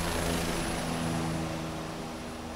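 A Bell 407 helicopter in a flight simulator comes in to land, its engine whine and rotor thrum forming a loud, steady drone that eases slightly toward the end, with no talking.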